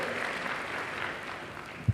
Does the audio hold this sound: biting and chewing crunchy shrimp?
no